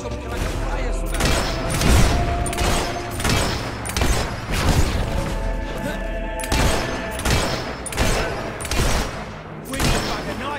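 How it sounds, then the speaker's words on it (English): Fiery spell bursts in the video game Fable III, a rapid run of loud booming blasts and crackling impacts repeating through the clip, layered with game music and talk. "Some kind of fire spell."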